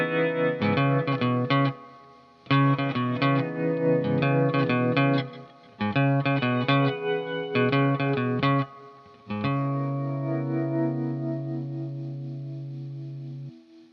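An electric guitar plays a bass line through ambient effects, short repeated note phrases with pauses between, then a final sustained ringing note that slowly fades; the notes are prominent and close.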